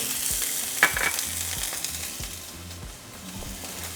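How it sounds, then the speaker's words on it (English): Onion sautés in hot oil in a pan for Mexican fried quesadillas, with a loud, steady hiss, one sharp clink early on and soft repeated stirring scrapes underneath. "Once our oil is hot, we're going to add the other half of our onion."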